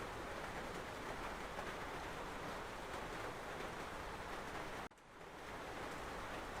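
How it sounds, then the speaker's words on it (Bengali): Light rain falls at night in a village, a steady close hiss that fills the whole clip and briefly drops out near the end before returning. "হালকা বৃষ্টি শুরু হয়েছে।"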